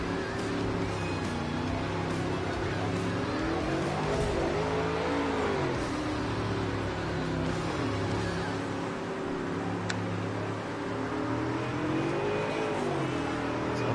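Open wheel race cars lapping a speedway during a memorial open wheel classic, engines droning steadily with rising and falling pitch as cars circle, continuous and moderately distant.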